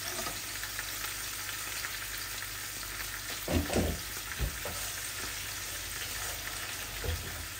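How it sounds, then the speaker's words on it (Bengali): Fish slowly frying in a pan gives a dense, steady sizzle throughout, broken by a few soft clunks of a utensil against the pan partway through. "এই মাছগুলো আস্তে আস্তে ভাজা ভাজা হোক।"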